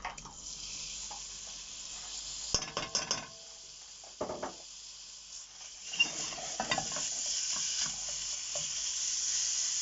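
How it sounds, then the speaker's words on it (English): Bacon hitting hot oil, with clattering pan knocks and scraping as it is broken up, then a steady sizzle that rises and fills the background toward the end. "There should be a sizzle."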